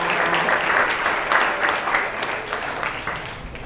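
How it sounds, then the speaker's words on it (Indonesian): Students applaud a classmate during a school leadership training session at a Jakarta vocational high school, a steady, fairly loud burst of group clapping that fills the whole moment and tapers slightly at the end. "Beri tepuk tangan untuk temanmu."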